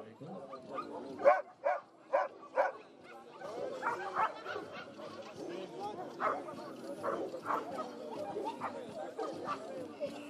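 Dogs at a police dog demonstration at a primary school in Uganda give several sharp barks close by, then yips continue amid crowd chatter.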